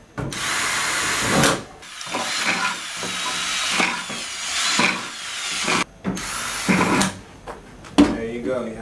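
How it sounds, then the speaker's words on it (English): A power drill whirs in several short bursts with brief pauses between them, drilling small holes in the bottom of a plastic bucket close to the microphone, and a voice is heard briefly. "First, we want to drill small, tiny holes in the bottom of it."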